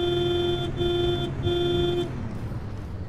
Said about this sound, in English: Hey, I can just press X and it honks the horn.